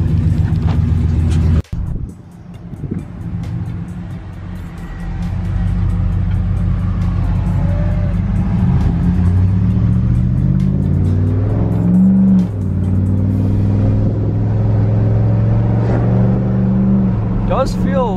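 A Hemi-powered Ram pickup truck fitted with a Volant cold air intake, its engine droning steadily and rising in pitch as it accelerates through gears, heard from inside the cab with someone talking over it.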